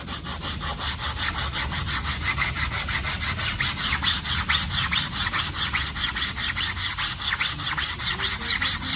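A balsa-and-foam wing from a St. Croix Models Burt Rutan Long EZ kit is hand-sanded before filler, producing continuous, close, rhythmic rasping strokes at an even pace without pauses.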